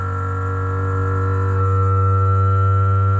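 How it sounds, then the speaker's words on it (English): A Kingroon KLP1 CoreXY 3D printer running, giving a loud, steady tonal buzz and hum with a slight pitch shift midway and no speech. "What you're hearing now is what you'd normally hear from a printer."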